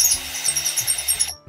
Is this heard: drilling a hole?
yes